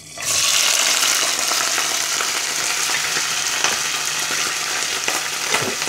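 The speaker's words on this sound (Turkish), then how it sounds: "Etimi hızlı bir şekilde mühürledim." Meat seared in very hot oil for et kavurma hisses in a loud, steady, dense sizzle that erupts suddenly and holds for several seconds without talk.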